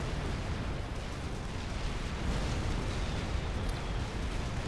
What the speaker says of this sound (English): So lots of units dying to point defense fire.